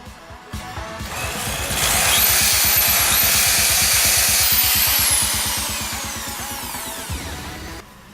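A power drill runs steadily in a home DIY improvement job, a dense buzzing whine with rapid pulsing that starts, holds loud for several seconds and winds down near the end, with no talking.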